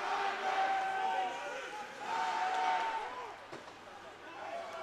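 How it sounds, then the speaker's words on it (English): A crowd at an ice hockey game at Extreme Ice Center roars and cheers in broad, swelling waves that fill the rink, with an announcer talking over it. "the crowd getting into it here at Extreme Ice Center, cheering their boys on"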